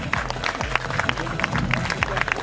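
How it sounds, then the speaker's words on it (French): An audience at a park festival applauds a young club member, with lively, uneven clapping mixed with a voice talking over it at close range. "On peut l'applaudir, il évolue tout doucement, mais il est toujours là."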